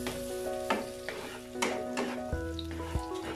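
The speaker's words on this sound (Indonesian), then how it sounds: "Kemudian aku ambil bawang merah dan bawang putih. Tuh. Kemudian aku tumis." Shallots and garlic sizzle steadily in a hot pan, with a spatula scraping and stirring and a few sharp clinks against the pan. The cooking is close and there is no talk.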